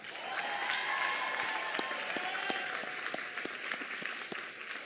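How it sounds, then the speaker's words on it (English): A graduation convocation audience applauds steadily throughout, a broad wash of many hands clapping at moderate distance with a faint sustained tone beneath. "Clap it up for them, please."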